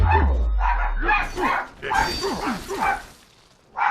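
Dogs bark in the combat video game GORN, a string of sharp, evenly spaced barks and yips from close by, with a few brief pauses between bursts.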